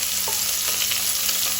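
Sliced onions frying with spices in a pan for Goan chicken pulao, a loud steady sizzle with brief stirring scrapes and no voices.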